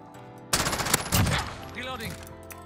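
A P90 submachine gun fires from the hip in Modern Warfare. A short, dense burst of rapid game gunfire rattles over about a second, then brief mechanical and effect sounds follow, fairly loud against quiet surroundings.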